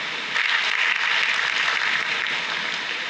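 An audience at an international science festival inauguration breaks into steady, even applause, a sustained wash of many hands clapping at moderate distance.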